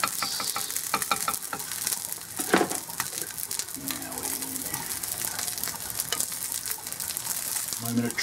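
An egg frying in a pan crackles and spits continuously, with a few louder pops and a scrape or two from a utensil, close and fairly quiet.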